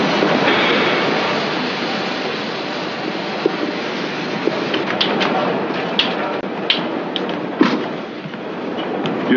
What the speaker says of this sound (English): to roll as soon as the Berlin train clears the line